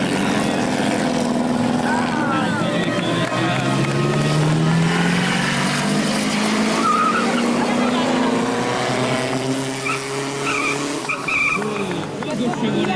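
Chevrolet cars drive past in a parade, with loud continuous engine roar and tyre noise throughout and a crowd and voices audible underneath.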